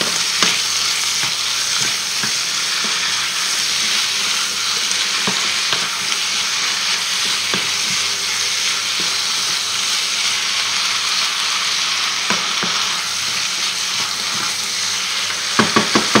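Mushrooms from a tin fry in a pan for chicken blanquette, making a loud, dense, unbroken sizzle up close, punctuated by occasional sharp clicks and scrapes of stirring and a few knocks near the end.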